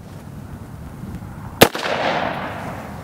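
A single close, sharp AR rifle shot cracks out of a quiet range background and leaves a lingering broadband rumble.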